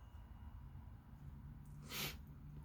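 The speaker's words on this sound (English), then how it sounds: "I'm going to sneeze." A single short sneeze bursts out about two seconds in, over a steady low background hum.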